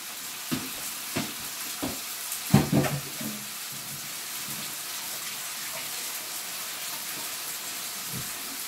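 Beef for a stir fry browns in a pan with a soft continuous sizzle, several spaced clanks of a utensil early on, then a steady hiss.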